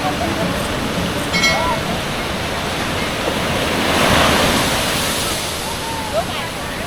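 Ocean surf rolls in at Drini Beach, Yogyakarta, a beach known for rip currents, making a constant loud roar with a swell near the middle, along with wind noise and faint voices in the distance.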